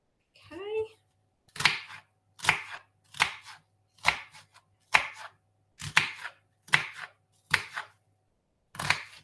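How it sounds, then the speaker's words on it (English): A knife chops an onion on a board in about ten separate, evenly spaced strokes, close and crisp, after a brief voice at the start. "That's my way of chopping onions."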